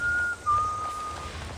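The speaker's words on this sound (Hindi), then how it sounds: "और इस सीटी मार रहे हैं पीछे बैठ के मजे में कौन है बे" A thin, steady whistled tone from a character in Assassin's Creed Valhalla at night, sliding slightly in pitch and holding for over a second against a faint game ambience.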